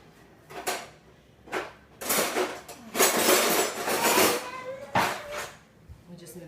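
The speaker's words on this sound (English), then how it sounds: "Okay, so I'm gonna get a spoon." A spoon is taken from a kitchen drawer: several separate bursts of rattling cutlery and a drawer sliding, fairly close, with quiet gaps between them.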